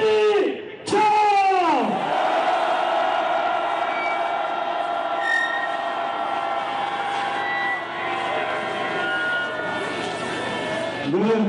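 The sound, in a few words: protesting workers' loud rallying shout while tearing a banner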